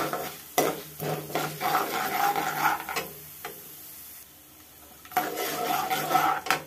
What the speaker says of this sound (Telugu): గోల్డెన్ కలర్ లో వచ్చే వరకు వేయించుకుని ఎండుమిరపకాయలు వేసుకుందాం